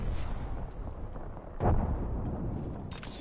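An Arc Star grenade detonates in an Apex Legends match, a short punchy burst in the middle standing out over a busy bed of game noise, followed by a faint high crackle.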